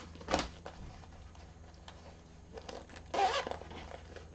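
A zipper on a handmade Cassia satchel bag being pulled open and shut, two short raspy runs about three seconds apart, close and fairly quiet over a low room hum.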